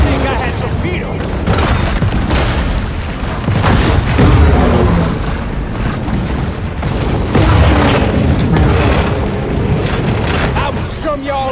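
Torpedo explosions in the shark game Maneater, a series of loud, deep booms and underwater blasts rolling one after another with crackling debris over several seconds.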